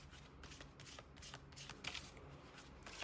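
Tarot cards are shuffled in quick repeated riffling bursts, close up and soft, with papery flicks marking cards being drawn and no talking heard.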